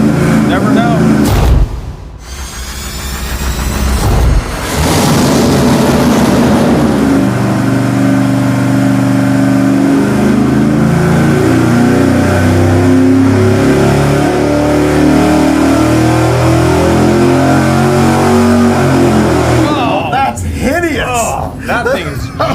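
Engine on a dyno with a plastic flex cooling fan, roaring steadily at high load after a sharp rev-up and holding a loud drone for many seconds before dropping away, with voices talking faintly over it.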